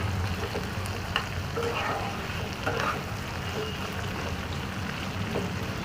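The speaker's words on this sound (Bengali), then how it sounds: "এটাকে একটু বাদামি রং হবার পর্যন্ত ভেজে নেবো" Veg manchurian fries in a pan, a continuous moderate sizzling hiss with small crackles and occasional stirring scrapes, close by and without speech.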